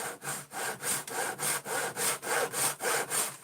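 A hand saw cuts through wood in a regular back-and-forth rhythm of about ten rasping strokes, close and clear, with no talking.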